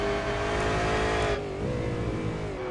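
V8 Supercar race car engine in a racing video game, accelerating hard in 3rd gear at Interlagos, a loud, steady, rising engine roar that eases slightly after a moment, no voice over it.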